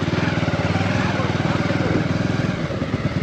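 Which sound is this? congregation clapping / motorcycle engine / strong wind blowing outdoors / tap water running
motorcycle engine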